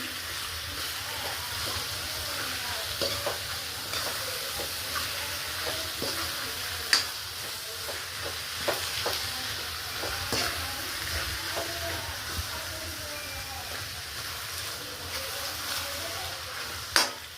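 Pigeon peas being mixed into a sizzling spiced gravy in a pot for a winter dish, with a steady close bubbling sizzle throughout and scattered light stirring clinks and scrapes, with no talking.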